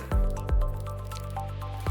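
Streptocide is ground in a mortar with 95% ethanol, a few wet squishing pestle strokes repeating at a steady pace, close and moderately loud with no talking.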